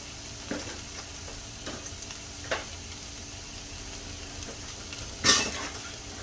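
Onions sautéing in a pan on medium-low heat for Philly chicken cheese steaks, giving a soft steady sizzle with occasional light scrapes and taps of a spoon, one louder clink near the end.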